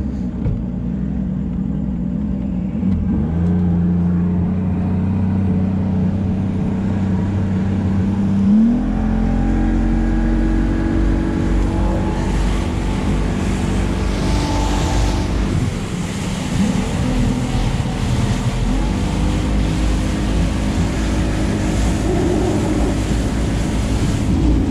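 A Cajun 2100 boat's engine drones steadily on the water, its pitch climbing as it revs up, mixed with wind buffeting and water rush throughout.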